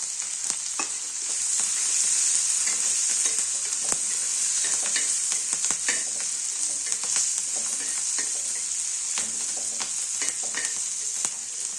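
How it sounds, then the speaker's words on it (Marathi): Green chillies roasting in a hot pan, a bright steady sizzle punctuated by frequent small crackles and stirring taps, close and continuous with no voices. "ह्याच्यात मिरच्या टाकायच्या या आणि मिरच्या आणि सरसरीत चांगल्या भाजून द्यायच्या"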